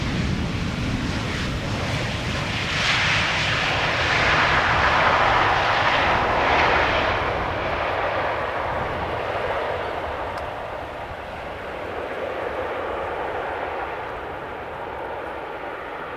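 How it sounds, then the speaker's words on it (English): At Amsterdam Schiphol, a Boeing 737 roars through its thrust reversers, a broad, loud rushing engine noise that swells midway and then slowly eases off, heard from a distance. "(737) using the reversers a little bit."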